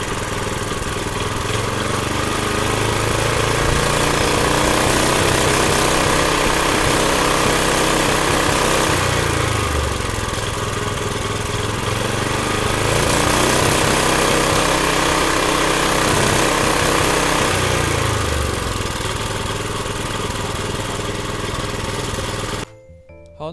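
A small cultivator's engine revs up loudly, holds a high throttle roar, drops back to a rough idle and rises again, close and dominant for over twenty seconds before cutting off abruptly.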